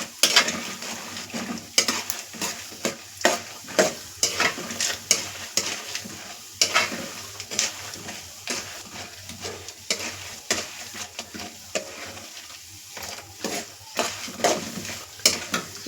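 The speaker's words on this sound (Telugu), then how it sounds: "ఇవన్నీ కొంచెం దూరగా వేయించుకోవాలి" Seeds including peanuts roasting in a pan are stirred over and over, with repeated scrapes and clinks of a spoon against metal above a soft sizzle and no talk.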